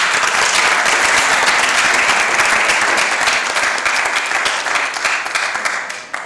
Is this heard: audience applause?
yes